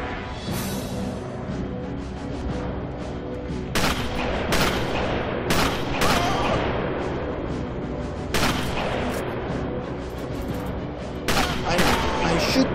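Rapid bursts of gunfire and booming shots from the Sniper Elite video game, loud and repeated across the scene in clustered volleys, with a voice speaking between them.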